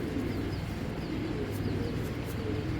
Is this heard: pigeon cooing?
yes